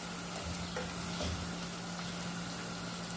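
Garlic, ginger and green chili paste frying with onions in a pan, giving a steady, dense sizzle with faint stirring scrapes, close and continuous, with no voices.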